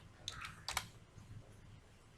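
Someone types on a computer keyboard while entering a record in MS Access, a few quiet clicks and a short burst of keystrokes, faint and close.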